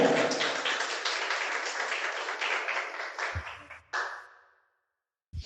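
A church congregation bursts into loud, dense applause at an evening service. The clapping holds steady for about three seconds, then thins into a few scattered claps and fades into silence.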